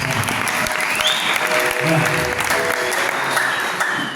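A congregation at a church service applauds in a dense, steady burst of clapping that holds for several seconds, with a voice faintly audible beneath it.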